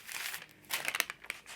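Crinkly packing paper saved for a junk journal is handled up close, crackling and rustling in irregular bursts, with a few sharper crinkles standing out among the quieter rustles.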